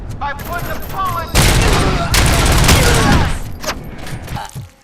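Loud bursts of gunfire from the video game Robocop Rogue City, a dense fusillade of rapid shots and booms over a couple of seconds, with a voice shouting amid the shooting.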